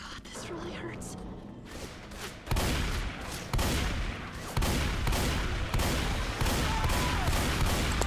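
Gunfire in the Left 4 Dead 2 zombie shooter during the No Mercy campaign, heavy repeated bursts of shots and thuds that swell louder after the first couple of seconds and stay dense and close.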